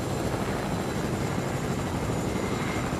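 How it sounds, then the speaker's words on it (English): A helicopter flies in the video game Fortnite, its rotor and engine a loud, steady, dense whirring drone that fills the whole stretch without a break. "Why is this helicopter light blue?"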